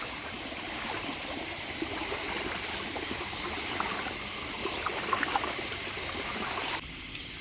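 A small stream flows during first-rain crab catching, giving a faint, steady trickle and babble of water that runs evenly and then drops away abruptly near the end.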